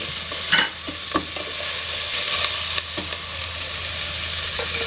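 Onions and other ingredients for tomato bath frying in a pan: a continuous loud sizzle broken by sharp spatula scrapes and clinks against the metal.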